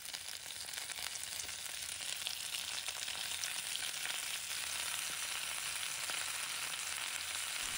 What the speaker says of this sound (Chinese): 然后把鱼块放入砂锅